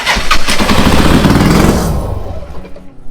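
A vintage Harley-Davidson Sportster Ironhead motorcycle engine cranks and catches, giving a loud, close, chugging mechanical clatter that runs for about two seconds before dropping away into quieter rumble.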